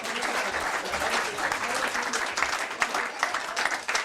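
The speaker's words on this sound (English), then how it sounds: "come on, a round of applause for them." Sustained applause fills a room at the Felling Cricket Club presentation night, steady, dense clapping from the gathered audience lasting throughout, with some voices mixed in beneath it.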